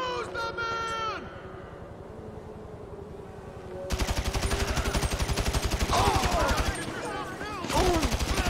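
Sustained automatic gunfire in GTA V, rapid rattling bursts that start after a short lull and run loud and dense to the end, with voices shouting over parts of it.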